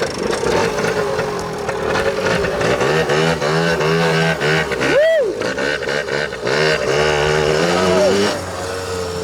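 A forty-year-old Yamaha Tri-Zinger three-wheeler's small engine revs loud and steady with rising and falling pitch sweeps as it is given gas, close up, with people talking over it.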